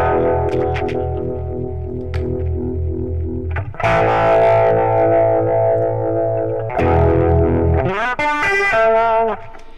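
Electric guitar played through a multi-effects unit's Vibrato Jimmy vibrato setting, sustained distorted chords that waver in pitch, with a louder burst of wobbling, bending notes near the end; no one speaks.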